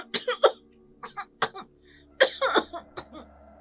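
Several harsh, raspy coughs in quick bursts, close and loud, with short pauses between fits.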